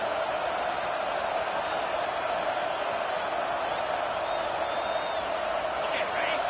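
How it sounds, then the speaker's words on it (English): A football video game's stadium crowd roars on third down, a steady, dense wash of noise that neither swells nor fades and sounds distant and uniform. "Third down, and this crowd is tearing the lid off this place."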